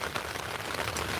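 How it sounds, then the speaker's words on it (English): Steady rain falls in a dense, even patter that fills the whole moment, moderately loud and without any voices. "I'm competing with the rain right now."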